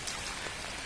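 Heavy rain falling steadily on an evening outdoors, a dense, constant hiss of drops close by with no pauses.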